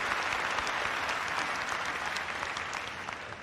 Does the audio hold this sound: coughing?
no